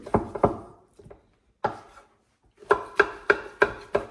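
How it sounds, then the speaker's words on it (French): A knife cuts pork leaf fat into cubes on a board, sharp close thuds in uneven clusters with short pauses, ending in a quicker run of regular chops. "Donc nous allons découper la panne en cubes"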